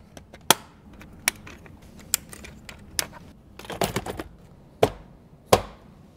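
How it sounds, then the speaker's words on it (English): Plastic trim panel on a 2022 Toyota RAV4 Hybrid steering column snapping back into place, giving several sharp, close clicks and knocks spaced irregularly, with softer handling rattles between them. "Let's put this panel back on."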